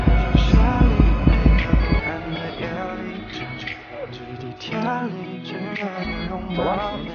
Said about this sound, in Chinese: 我现在心跳180，